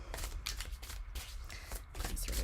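Tarot cards being shuffled by hand in a continuous run of dry, rapid riffling and sliding, close and fairly loud, with no voices over it.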